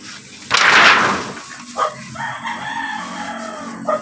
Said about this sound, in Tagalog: binisita lang ni Gandry yung kanyang mga alagang manok